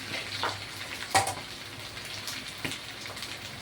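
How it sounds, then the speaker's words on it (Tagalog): Sprite poured into a pan of simmering humba, a braised pork dish, sets off a bright sizzle with a sharp splash at the start, then crackling bubbling that carries on steadily without talk. "ilagay na natin ang ating Sprite"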